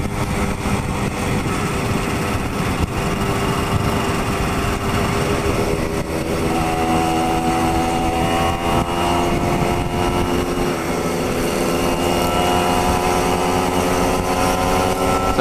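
A Yamaha RD135Z motorcycle engine running continuously, a loud, buzzy two-stroke drone heard close up while riding on a dusty road, its pitch shifting slightly as the throttle changes.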